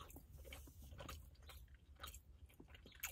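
Close, quiet chewing of a glazed banana nut protein brownie bite, with soft moist crunches and bites repeating in an uneven rhythm and no talking.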